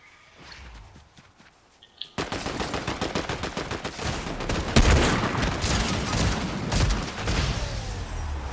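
Video game gunfire rattles in dense rapid bursts close up, opening abruptly after a quiet start and continuing loudly throughout with a single sharper crack in the middle.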